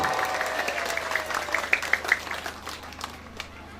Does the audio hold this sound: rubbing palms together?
no